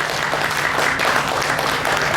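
A stage-show audience at the Nebraska State Fair gives steady, even applause, a continuous close wash of many hands clapping.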